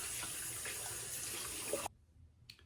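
Water running into a sink from a tap while rinsing up after a shave, a steady close hiss that stops abruptly.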